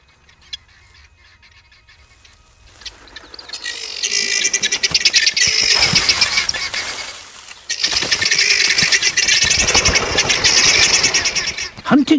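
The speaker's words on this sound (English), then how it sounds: "Guinea fowl." Guinea fowl calling in open grassland, a dense run of harsh, rapid chattering cries that builds loud and close, pauses briefly, then resumes just as intensely.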